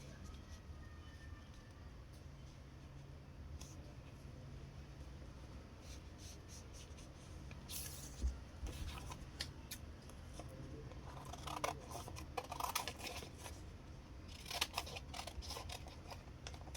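Scissors snipping through fabric to cut out a shirt back pattern, a string of soft crisp clips that grow busier toward the end, close and fairly quiet over a steady low room hum.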